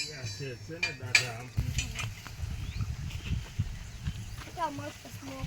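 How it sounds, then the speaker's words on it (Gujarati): Kanejra leaf greens, just tempered, cooking in a pan outdoors in a village farm setting: soft sizzling with clattering stirring and scraping in the middle, close by, with a person talking before and after. "તો આપણે ભાજી વઘાર કરી નાખ્યો છે. થોડી વાર એને પાકવા દઈએ"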